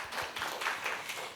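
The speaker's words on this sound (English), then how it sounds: "Please give them a round of applause." A conference audience gives a wellbeing panel a round of applause at a business showcase, a brief, fairly quiet patter of many hands clapping.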